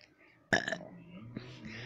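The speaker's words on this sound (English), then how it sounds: "This is the most disgusting burp." Loud burp erupting suddenly after quiet, a single rough, throaty belch lasting a moment, followed by a lower rumbling tail and voices talking faintly behind.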